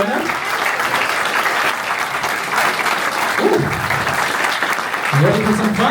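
A live audience at a chess show in Hamburg claps steadily and loudly to welcome the host on stage, a dense, continuous wash of applause with a few voices calling out near the end.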